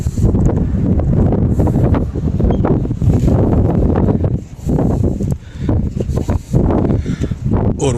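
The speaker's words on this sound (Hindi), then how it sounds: "हवा के आवाज़ आप सुन सकते हैं कि कितनी तेज़ हवा चल रही है।" Strong wind blasts across the rooftop of Masjid Nimra at Arafat, buffeting the microphone in loud, continuous rumbling gusts with brief dips.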